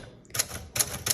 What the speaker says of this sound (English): let's go ahead and do our typing demo